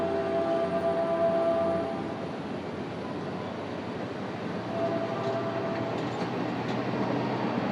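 A Caltrain train passes Burlingame station with a steady, moderately quiet rolling rumble and faint tonal hums near the start. No one speaks.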